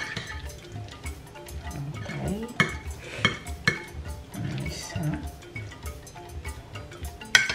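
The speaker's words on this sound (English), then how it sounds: "So now I'm mixing this up." Spoon clinks and scrapes against a bowl while Ghana potato salad with mayonnaise is stirred. The taps and knocks come in an irregular run, close and moderately loud, with no talking.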